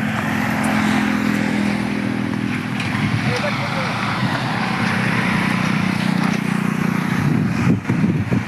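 A homemade jugaad motor cart built for hauling milk runs with a steady, close engine drone that holds an even, throbbing idle throughout, with faint voices in the background.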